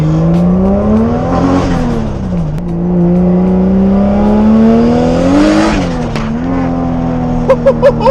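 A single-turbo 550hp Toyota Supra pulls hard from inside the cabin, its engine note climbing and dipping through gear changes, loud and close, with a few sharp pops near the end.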